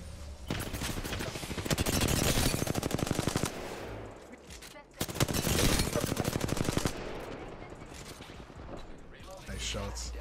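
Rapid automatic gunfire in the shooter Apex Legends: two long, loud bursts of fast, evenly spaced shots, each lasting a few seconds, with a brief gap between them and a burst of noise at the end.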